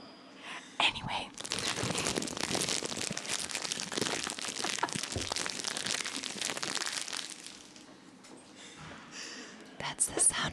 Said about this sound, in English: That's the sound of a plastic wrapper.